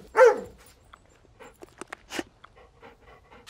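Cartoon dog giving one sharp bark near the start, followed by faint panting and small scattered sounds.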